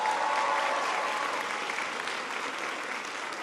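Large crowd applauding at a political event on education and the economy, a dense, sustained roar of clapping with a whistle early on, fading slightly toward the end.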